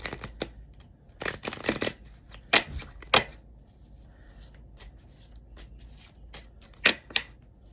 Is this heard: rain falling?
no